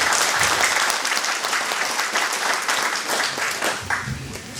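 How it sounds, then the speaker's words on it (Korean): Audience at a livestock farmers' association gathering in Suncheon claps in a sustained, dense round of applause that holds steady before thinning slightly at the end. "박수 한번 쳐주시기 바랍니다"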